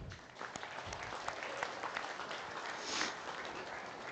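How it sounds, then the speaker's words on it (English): Applause from the audience at the Northeast Summer National Holstein Show 2025, a dairy cow show, honoring breeders and exhibitors; a steady broadband round of clapping with no talk, swelling slightly near the end. "of applause."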